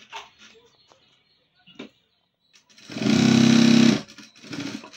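Sewing machine stitching around a blouse armhole, one short, loud, steady burst of about a second between quieter handling noises.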